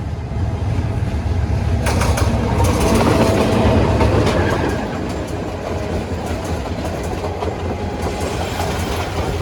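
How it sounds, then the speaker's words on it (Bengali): The Jamuna Express, a Bangladeshi passenger train running between Tarakandi and Dhaka, passes at speed with a loud, continuous rumble and rapid clatter of wheels on rails, close by and without talk. "এই যে দ্রুত গতিতে আসছে যমুনা এক্সপ্রেস।"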